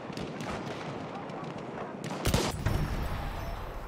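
Sniper and rifle fire across a Battlefield 1 battlefield, steady distant crackle of shots with a loud, sharp blast near the middle, then rumbling fire afterward.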